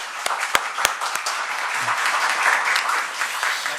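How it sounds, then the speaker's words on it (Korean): A room of officials at a Ulsan education committee session breaks into steady group applause, a few sharp claps standing out at the start before blending into an even, moderately loud wash. "고생했다는 뜻으로 박수 한번"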